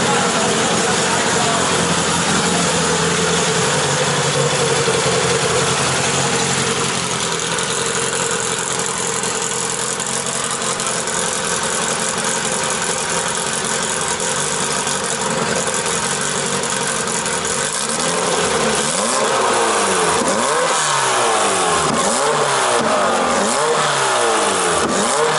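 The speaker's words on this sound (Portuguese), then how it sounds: "Cadete com motor C20XZ." At a racetrack pit area, a Chevrolet Kadett with a C20XZ engine idles loudly amid dense background noise, then revs in a series of quick throttle blips toward the end.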